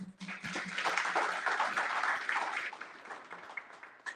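Audience claps for staff at an end-of-year fundraiser, a short round of applause from a modest room that swells quickly, holds, then thins out toward the end over a faint low hum.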